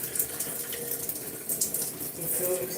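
Tap water runs steadily into a small squirt bottle at a bathroom sink, a continuous close hiss and splash with slight shifts in pitch as the bottle fills.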